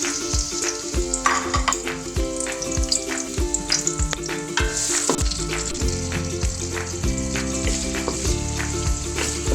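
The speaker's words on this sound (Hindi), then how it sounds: "घी गर्म हो चुका है। बिस्मिल्लाहिर्रहमानिर्रहीम। इसमें प्याज डाल देते हैं।" Onions sizzle loudly in hot ghee for matar pulao, a dense crackling fry close up with rhythmic stirring clatter and no talk.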